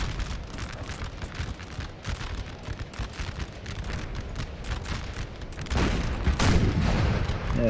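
Artillery fire in the video game Napoleon: Total War, a continuous rumble of distant cannon shots and musketry over a battlefield, swelling into louder, heavier booms near the end.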